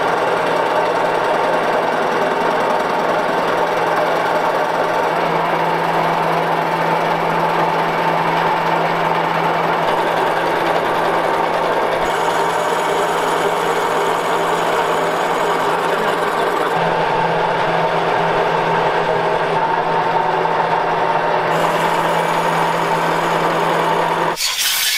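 A machine surfaces the cylinder head of a Renault 4L engine set flat on its bed, giving a loud, steady grinding and whirring drone with a constant hum, unbroken and without talk.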